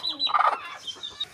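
A village chicken gives a few short clucks, close but fairly soft, with quiet background between them.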